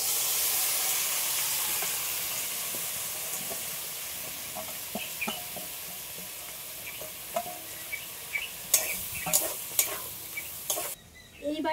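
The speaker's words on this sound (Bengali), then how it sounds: "এবার আমি দিয়ে দিচ্ছি এই ভিজিয়ে রাখা চালটা।" Soaked rice goes into lightly frying spices, a loud hissing sizzle that gradually settles, followed by a run of quick scraping stirs and clanks near the end, no talking.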